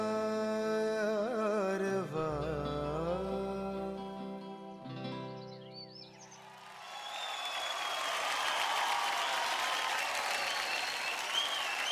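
A studio audience breaks into sustained, full applause after a dance performance on a Marathi TV dance competition show, rising after a sung passage fades and holding steady to the end.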